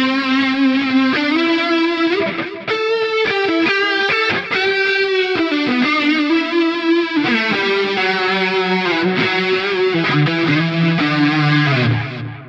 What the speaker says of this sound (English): Next preset is called DS Chorus. Oh wow. Distortion Chorus.